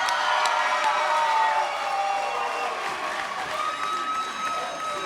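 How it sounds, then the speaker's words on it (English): An audience at a SteelFist 102 fight event applauds and cheers for fighter Cole Faust, a dense wash of clapping and shouts that swells early and then eases to a steady roar. "Everybody, big round of applause for Cole"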